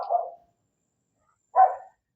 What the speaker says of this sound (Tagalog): Aso nga lang, may aw-aw.